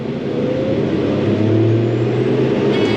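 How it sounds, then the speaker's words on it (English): A crop sprayer's pump engine on a soybean field in Central Illinois runs at full throttle with a loud, steady, close mechanical drone that holds its pitch for the whole stretch, with no voices. "Turn my pump on, throttle all the way up"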